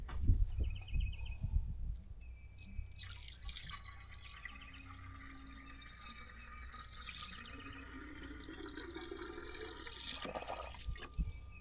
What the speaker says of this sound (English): see how much water will go in here.